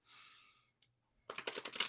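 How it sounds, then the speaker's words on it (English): Tarot cards are shuffled close by, a soft riffling hiss followed by a quick burst of crisp slapping card clicks, faint and with no talk. "My fun weekly reminder this week as I'm shuffling is that you get out into nature this week"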